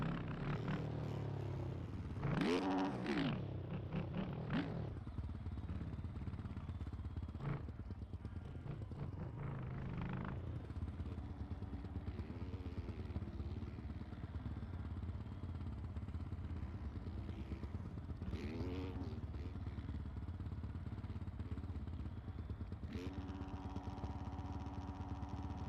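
Motocross bike engines in a game racing round set in Australia drone and rev in the background. Rising and falling engine whines sweep past now and then over a constant low hum.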